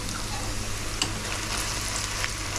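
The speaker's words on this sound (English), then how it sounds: "keep cooking these onions until they are absolutely caramelized" Onions fry in a pan on the way to caramelizing, giving a steady close sizzle with a few small clicks as they are stirred.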